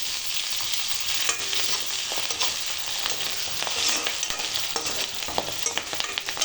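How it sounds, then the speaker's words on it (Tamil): Onions and curry leaves sauté in a hot pan, giving a steady, loud sizzle with intermittent stirring scrapes and crackles throughout, no voices. "இன்னும் கொஞ்சம் வெங்காயம் நல்லா வதங்கட்டும்"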